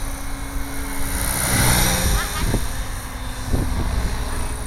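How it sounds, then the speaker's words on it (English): A Gaui 550 radio-controlled helicopter's steady high-pitched rotor whine and motor hum carries on throughout, with faint voices and brief bumps underneath. "It's just a beautiful helicopter to fly."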